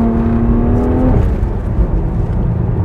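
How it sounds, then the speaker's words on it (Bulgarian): A BMW 1M E82 launches hard in first gear with traction control off. The engine holds a loud, steady high-rev drone, then a gear change drops the pitch, and the car keeps pulling strongly, close and loud. "И даваме газ."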